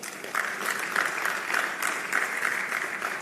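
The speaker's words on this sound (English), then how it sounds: "a round of applause for her," Rhythmic clapping from an audience at a retail congress honoring an author, fairly even beats at a steady pace, moderately loud in a room.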